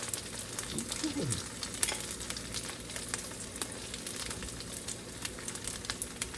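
Scrambled eggs fry in a pan with a steady, close sizzle and crackle that continues throughout, with faint scraping from stirring and no talk.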